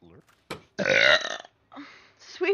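A single loud, rough burp lasting about half a second rises between stretches of casual conversation, with people talking before and after it.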